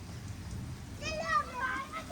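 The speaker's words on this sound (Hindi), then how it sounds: "चट चट दाने पड़ रहे हैं यार। शायद ये बड़े बड़े बूंदों वाली बारिश हो रही है" Rain mixed with hailstones patters steadily in a Pahadi hill village, a soft continuous rattle that stays under voices talking over it.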